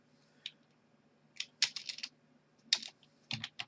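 Keystrokes on a computer keyboard as a username and password are typed to log into a Linux server: several quick bursts of close, crisp clicks separated by short pauses, with no talking.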